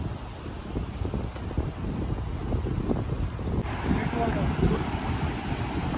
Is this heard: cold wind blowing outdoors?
yes